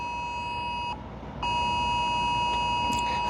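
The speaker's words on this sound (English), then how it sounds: "Oh, there it is. There we go. It is. Test alert." A phone emergency alert test tone blares loud and sustained, cuts out briefly, then resumes, steady and piercing.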